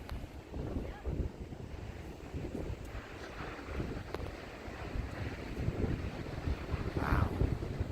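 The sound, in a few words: big ocean waves breaking with wind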